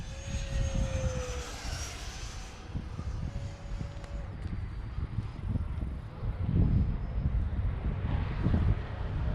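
A Freewing Yak 130 model jet with a 70mm electric ducted fan flies a pass outdoors, a steady whining rush heard at a distance over wind buffeting the microphone, with a faint high tone drifting through.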